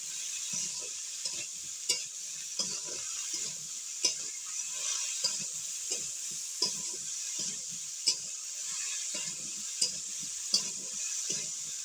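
A spoon stirs khichuri with salt in a pot, scraping and knocking in a steady, regular rhythm with light clicks, over a constant soft sizzling hiss.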